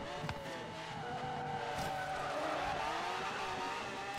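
A race car roars in a video game, its steady engine drone holding close and loud with tyre squeal and skidding edges, running continuously with no talk over it.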